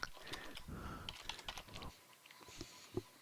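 Fingers typing on a computer keyboard, a quick run of soft close clicks and key taps at uneven pace, fairly faint, with no talking.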